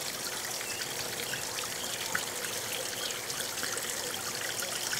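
Water trickles and pours steadily through a garden pond filter fitted with a UV sterilizer, a continuous, close, even splashing flow with no voices.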